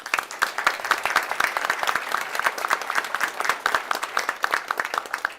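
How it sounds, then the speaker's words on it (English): An audience at a school board meeting claps in a sustained burst of applause, many hands patting fast and unevenly, loud and close, with no speech over it. "So a round of applause for you."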